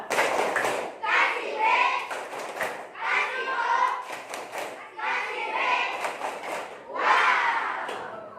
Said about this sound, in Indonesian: Dan kita kasih tepuk wow buat Fatur.